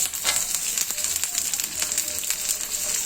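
Carrot, capsicum and onion fry together in a pan, producing a steady, even hiss of sizzling oil with faint crackles throughout and no talking.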